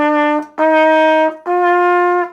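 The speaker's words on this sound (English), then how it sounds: "So a scale sounds like this." A musical instrument sustains three steady pitched tones in turn, each held about a second with brief gaps between them, clear and fairly loud with no voices.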